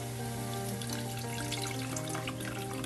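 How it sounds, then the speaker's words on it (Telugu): Water pours steadily into a cooking pot of tamarind broth for a spicy Andhra catfish curry, a continuous close splashing rush with no talk. "మళ్ళీ ఇంకోసారి వాటర్ వేస్తాను."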